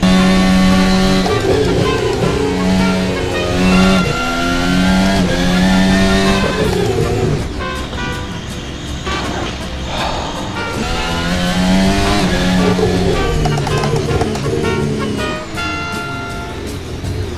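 Race car engine in a Singapore GP racing video game, revving hard and shifting through gears with loud, sustained high-pitched whine, dropping and bogging midway before climbing again, with occasional tire squeal.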